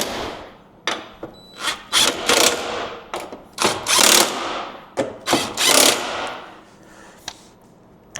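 Strut top hat bolts on a Corolla FX16 are cinched up with a power tool, giving repeated short rattling bursts of impact hammering, some clipped and some sustained for a second, close and loud.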